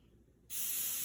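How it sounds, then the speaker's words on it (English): Cooking spray hisses from an aerosol can onto bread in a home kitchen cooking lesson, one steady, close, loud spray starting abruptly midway and holding to the end. "this is where we're going to spray it lightly with some cooking spray to our stuff."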